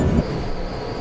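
A Seoul subway train running, a steady low rumble and rattle of rail cars with a brief louder burst at the start, then an even continuous roar without talk.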